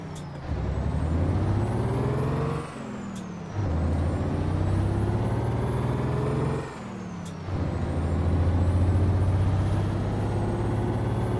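A Mack R600 truck in American Truck Simulator runs its Jake brake, a loud, deep engine-braking roar in long sustained bursts, broken by two brief gaps with a sharp hiss as the truck shifts.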